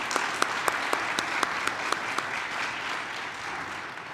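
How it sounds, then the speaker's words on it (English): An audience at a community human rights celebration applauds award honorees, steady crowd clapping with a few louder individual claps punctuating it, gradually fading toward the end. "Another round of applause to Josie Hoffman,"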